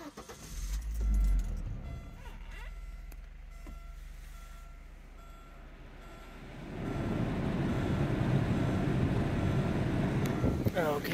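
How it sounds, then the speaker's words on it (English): A 1991 Audi Coupe Quattro with a 5-speed manual sits quiet with faint handling noises before its engine cranks and catches about two-thirds through, then settles into a steady, fairly loud idle until the end. "Let's pop the hood and start her up."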